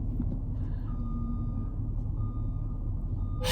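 A truck's reversing alarm beeps in a steady repeating series, close and loud over a constant engine and street rumble, with no talk.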